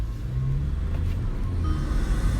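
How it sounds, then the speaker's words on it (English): 2019 Kia Stinger with a K&N Typhoon cold air intake held in launch mode, a close, steady deep engine rumble heard from inside the car. "we are going to do what is called launch mode"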